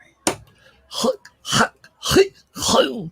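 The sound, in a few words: throat clearing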